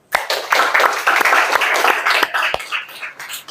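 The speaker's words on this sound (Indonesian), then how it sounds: "Kita tepuk tangan bersama yuk." A class group clapping together at the end of a lesson, with uneven, fairly close hand claps forming a short burst that thins out and stops near the end, with no voices over it.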